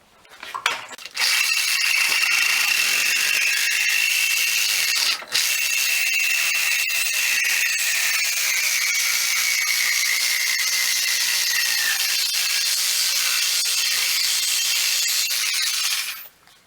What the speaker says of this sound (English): I'm going to use my big reciprocating saw